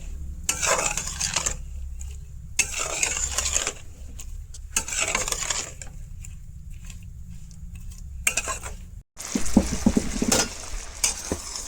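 Continuous scraping and stirring of a thickening sweet radish mixture in a pan over a gas flame, bursts of stirring with soft sizzling in between, close and fairly loud, no talking.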